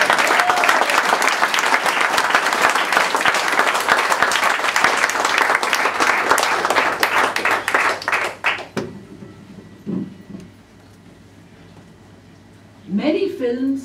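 An audience claps loudly and continuously to welcome a speaker, then the applause thins out and fades, followed by quiet room sound and the start of a voice near the end.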